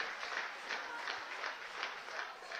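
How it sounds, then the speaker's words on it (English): Crowd noise at an Intercounty Baseball League game, Barrie Baycats at London Majors, a fairly distant wash of clapping and cheering with rhythmic pulses of applause, steady but faint. "The crowd is hyping him up."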